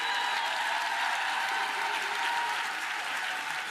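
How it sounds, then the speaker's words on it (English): Audience applause at a talk by Master P: continuous dense clapping from a large crowd, even and loud throughout, with a faint tonal hum underneath and no speech on top. "I give y'all self a round of applause."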